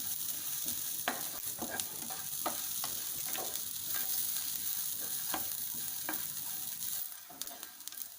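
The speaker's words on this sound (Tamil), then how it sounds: "தேங்காய் ஒரு கோல்டன் கலர் வரட்டும், அந்த அளவுக்கு வதக்கிட்டு நம்ம இதை எடுத்துக்கலாம்" Coconut and masala sauté in a pan until golden for a Mangalorean chicken chukka, giving a steady close sizzle broken by irregular scraping stirs and small clicks, with no talking.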